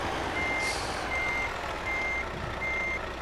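Truck reversing alarm in a trucking video game while a trailer is backed up: a steady series of evenly spaced electronic beeps over a continuous engine rumble, with a brief hiss near the start.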